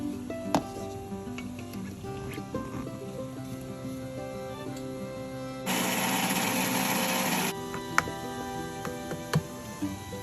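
Electric kitchen grinder blitzing peanut chutney, a short loud burst of harsh whirring lasting about two seconds amid quieter kitchen clatter and ticking.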